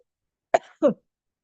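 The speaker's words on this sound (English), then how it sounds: "I was coughing." Two short, sharp coughs close by, the second slightly fuller, then silence.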